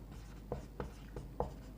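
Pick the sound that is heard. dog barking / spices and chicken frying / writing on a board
writing on a board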